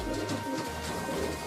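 Domestic pigeons kept by hobbyists coo in low, soft, rolling calls that continue steadily through the short stretch, close by and without talking.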